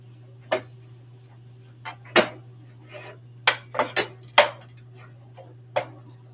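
Food being mixed in a bowl while cooking: a series of sharp, separate clinks and taps of utensil against the bowl at irregular intervals, close and clear over a steady low hum, with no voices.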